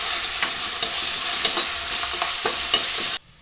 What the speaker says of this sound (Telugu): కరివేపాకు వేసుకొని మంచిగా కలుపుకోవాలి